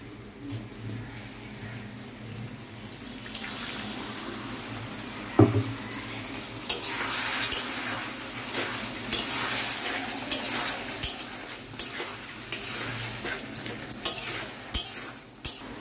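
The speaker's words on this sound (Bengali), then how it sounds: "এবার এই মিক্সি ধোয়া জলটা দিয়ে দেব" Water from rinsing a mixer poured into spice paste frying in oil, bursting into a loud crackling sizzle that swells partway through, with occasional stirring scrapes and clinks against the pan.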